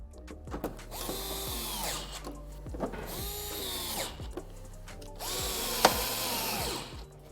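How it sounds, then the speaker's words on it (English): A power driver fitted with a T15 bit drives SEM screws with integrated washers into a C7 Corvette undertray, three short whirring bursts that rise and fall, each ending in a brief stop, close and fairly quiet. "I've changed my driver to a T15, and we supply you T15 SEM screws"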